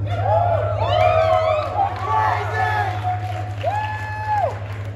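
Concert crowd at the Nile Theatre in Mesa, Arizona cheering and whooping between songs, loud and close, with shouted voices over a steady low hum from the stage.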